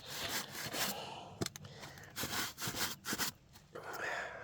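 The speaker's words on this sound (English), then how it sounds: "Use that shoe scraper, it really does help." Shoe scraped across a shoe scraper outdoors by a garden, rough rasping strokes in bursts with short gaps, fairly close.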